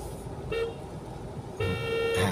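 A car horn sounds twice, a brief toot and then a longer blast, over steady road and engine rumble.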